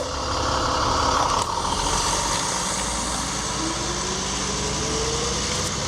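A bus pulls up close by with a steady, loud engine rumble and a rising tone from the engine as it approaches.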